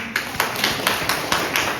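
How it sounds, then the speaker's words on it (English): A small group at a teacher-training session claps hands in a steady, evenly spaced rhythm, several sharp claps close by at moderate volume with no talking. "Can we clap hands for him?"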